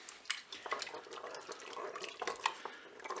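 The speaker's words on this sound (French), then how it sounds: "Je mélange." Crème fraîche being stirred into turkey escalopes in a Cookeo multicooker, a soft, wet, continuous stirring with small liquid splashes and utensil clicks, close and fairly quiet, no talk.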